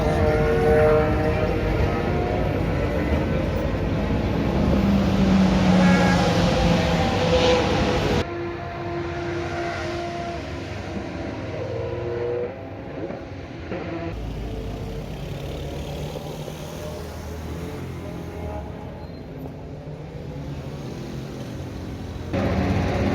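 A Ford GT race car drives at the Circuit Paul Ricard during a historic race meeting, a sustained loud engine roar that shifts in pitch and level as it passes, with no voices.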